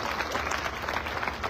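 An audience at a motivational speech event in Varanasi bursts into dense, continuous applause welcoming first-time attendees, a full crowd clapping steadily throughout.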